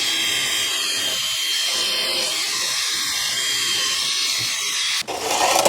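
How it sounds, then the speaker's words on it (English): A rotary wire wheel grinds at close range against the hub surface of a Toyota Camry during a front brake job, a steady loud abrasive whir held for several seconds before briefly dropping and surging back. "what I'm going to do is clean the surface of that hub with this wire wheel"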